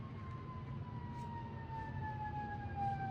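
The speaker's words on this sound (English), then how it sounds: "You got to be as urgent as that ambulance outside." An ambulance siren wails outside, its steady gliding tone slowly falling in pitch as it passes, set over a constant low traffic rumble and heard alone without talk.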